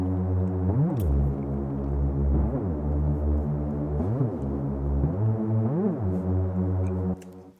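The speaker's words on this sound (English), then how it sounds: "it becomes like a sub bass sound" A filtered sawtooth synth played low as a sub bass, a deep continuous hum with repeated upward and downward pitch glides and a throbbing pulse, steady and loud until it cuts off near the end.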